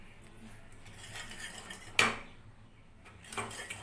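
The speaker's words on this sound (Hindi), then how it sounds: "अब मैं एलोवेरा जेल मिक्स कर रही हूँ।" Aloe vera gel is stirred into a bowl of henna paste made with curry leaves, producing soft, close scraping with a sharp clink of utensil against the bowl near the middle and lighter taps at the end.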